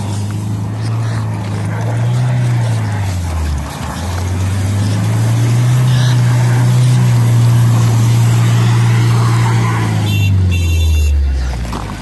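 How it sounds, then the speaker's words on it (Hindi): A 4x2 car stuck on a snowy road in Gulmarg, Kashmir, revs steadily as its tyres slip and spin, the engine drone rising and falling in long surges, close and loud throughout. "ये बहुत ज़्यादा स्लिप मार रहा है।"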